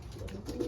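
Racing pigeons cooing at home after a race, soft repeated coos close by, with no talk.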